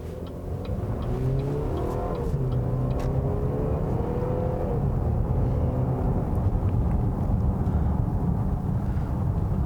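A 2018 Buick Regal TourX with a 250 hp turbocharged four-cylinder accelerates on the road, engine note climbing through revs in rising sweeps over a steady bed of road and tire noise.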